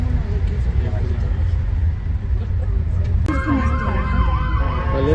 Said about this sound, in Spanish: ambulancias, déjenlas pasar